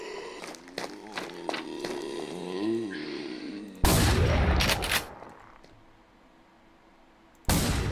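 Pump shotgun blasts in the zombie survival game Romero's Aftermath, two loud broadband booms near four and seven-and-a-half seconds, each with a rumbling decay, following a stretch of scattered game effects and movement sounds.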